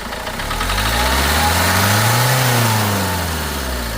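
A Renault Duster RXL diesel car engine is revved on the accelerator, its close, loud hum climbing in pitch and then settling back toward idle in one smooth rev.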